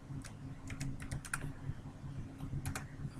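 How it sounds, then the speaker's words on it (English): Typing a password on a computer keyboard: soft, close keystroke clicks in an irregular sequence over about three seconds, fairly quiet against low background hum. "Type in your password,"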